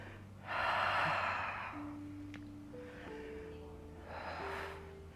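Audible breaths during a Pilates exercise: a long loud exhale early on, then softer breathing and a second strong exhale near the end, close up with a steady low background hum and no talk.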